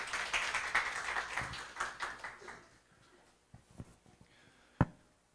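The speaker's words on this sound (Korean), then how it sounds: "박수로 환영해 주십시오" Clapping from a small audience at a Korean organization's launch ceremony, welcoming a speaker; brisk applause fades out within about three seconds, followed by a few scattered taps and one sharp knock.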